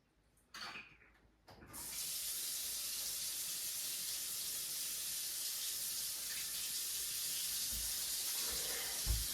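A tap turns on after a few brief knocks and water runs steadily with a soft, even hiss, close by.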